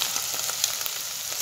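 Tomatoes hit a hot frying pan, giving a steady, close sizzle with faint crackles throughout, with no talk.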